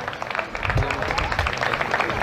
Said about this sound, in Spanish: Arrancan los aplausos del público